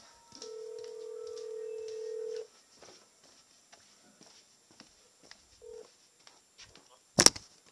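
Telephone sounds on a call: a long steady tone, a brief second beep, scattered faint clicks and then a sharp loud click near the end, with little else around.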